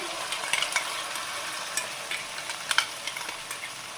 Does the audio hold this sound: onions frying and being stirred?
yes